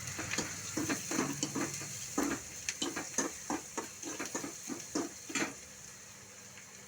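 Onions frying with red chili powder in a pan, giving a steady sizzle broken by a quick series of scraping, clicking stirs from a spoon against the pan.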